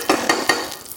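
Clarified butter sizzles and crackles in a hot pan, with a few quick scraping stir strokes in rhythmic bursts, close and clear with no talking.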